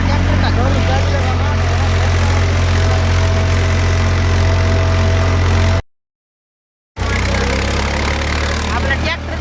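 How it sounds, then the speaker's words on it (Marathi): A tractor engine runs steadily in a farm field, a loud, continuous low rumble with a slight knocking rattle. It cuts out briefly partway through, then resumes at the same level. "ट्रॅक्टरमुळे तुम्हाला नक्कीच खाडबाड आवाज येईल"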